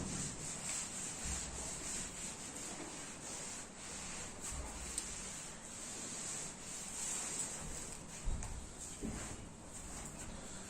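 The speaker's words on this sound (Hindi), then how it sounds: "ओके, चलो मैं रब करता हूं थोड़ा सा" Writing is rubbed off a classroom board in repeated scrubbing strokes, a soft continuous friction with uneven bursts over a quiet room hum.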